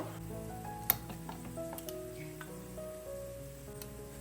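Whole spices fry in oil in a pan for a sweet-sour apple pickle, giving a steady, even sizzle with small crackles and one sharp tap partway through, with no talking.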